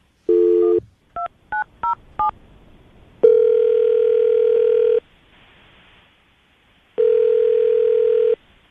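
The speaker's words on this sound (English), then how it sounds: "I'm going to dial the number." Telephone call on a radio morning show: a short DTMF dialing sequence of distinct beeps, then long steady ringback tones twice with a silent gap between, loud and clear with no speech.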